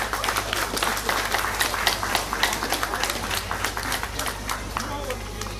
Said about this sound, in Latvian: Aplaus viņiem!